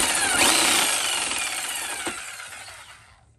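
Jigsaw cutting a speaker opening out of a traced line for a Harley speaker cut-in kit: a steady, close buzzing cut lasting about three seconds, gradually fading as the blade slows and stops, with no talking.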